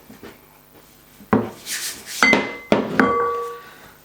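A rolling pin works Welsh cake dough on a board into a flat slab, giving a few soft rubbing rolls and three sharper knocks as the pin shifts and lands.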